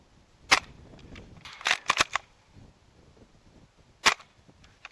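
An S&T SMLE airsoft rifle fires on an outdoor range, its BBs striking an oil drum about 35-40 metres away: four sharp cracks, one single, a quick pair near together, then another single, each loud against quiet background.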